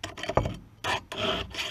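A faller files a chainsaw chain by hand: three close rasping strokes, the first two quicker and the last longer and steadier, with no voices.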